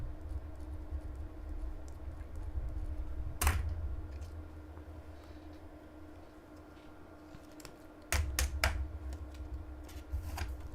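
Short bursts of keystrokes on a computer keyboard being typed while noting details of a 1960-D coin from a roll hunt, a quick cluster near the start and a denser run of taps later, close and clear over low room hum.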